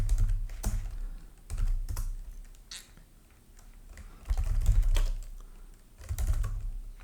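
JavaScript code typed on a computer keyboard, clusters of close key clicks separated by brief pauses, with soft low thumps beneath some bursts.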